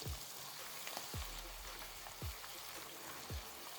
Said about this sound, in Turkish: Soğan ve sarımsak da mantar gibi yumuşayana kadar iyice kavuruyoruz.